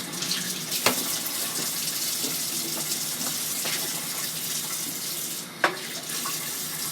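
Tap water runs steadily into a sink as a Mainstays personal blender cup is rinsed, a continuous close gush with a couple of brief knocks of the plastic cup against the basin.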